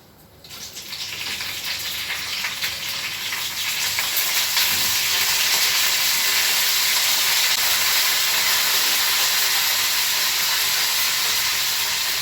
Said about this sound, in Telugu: ఆయిల్ వేడయ్యాక అందులో ఆవాలు జీలకర్ర ఎండుమిరపకాయలు అలాగే కరివేపాకు వేసుకోవాలి